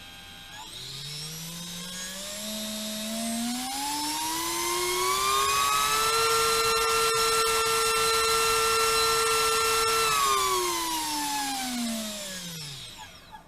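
An Avan Rush motor spinning a 2.5-inch toroidal propeller on a 2S battery whines up in pitch, holds a steady loud tone for several seconds, then winds back down, close and alone.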